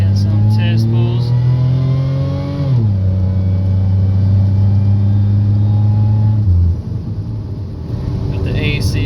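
Pontiac Grand Prix GTP with a 3-inch downpipe and swapped supercharger pulleys pulls hard under load, its loud, close engine note climbing, dropping at a gear change, climbing again, then backing off as the throttle lifts.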